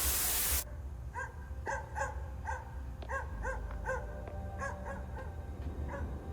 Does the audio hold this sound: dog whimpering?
yes